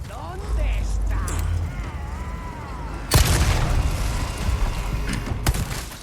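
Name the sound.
explosive barrel shot and exploding in video game Resident Evil 4 Remake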